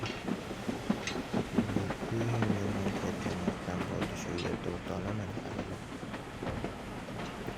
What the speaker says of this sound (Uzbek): poyezd yana o'zini yo'lida davom etadi